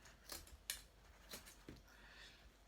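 Scissors snip through excess carpet trim inside a VW T5 camper van, several crisp separate cuts spaced irregularly, close and fairly quiet against a hushed room.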